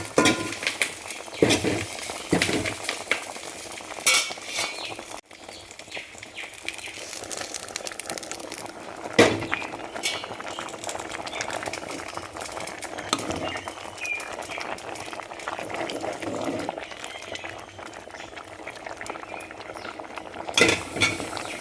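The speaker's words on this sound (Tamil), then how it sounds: "இது அப்படியே சாம்பாரில் சேர்ப்போம்." Agathi greens go into a pot of sambar, making soft crinkly rustling and scattered clinks over a faint bubbling simmer. The sounds are quiet and close, with no talking.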